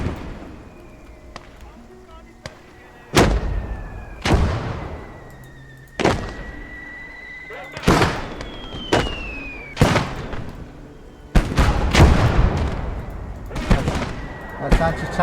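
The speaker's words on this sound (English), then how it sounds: "That's anti-tank rifle." Anti-tank rifle fire in the World War II game Blood Red Snow, a run of heavy booming shots at irregular intervals, each with a sharp crack and long rumbling tail, over continuous battle noise and a faint tonal drone.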